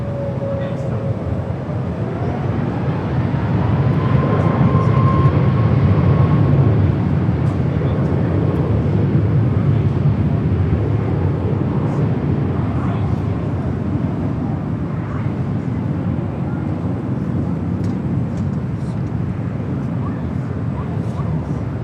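An airliner takes off from runway 24 left at LAX, its broad jet roar building to a peak and then holding steady as it climbs away, with faint radio chatter in the background.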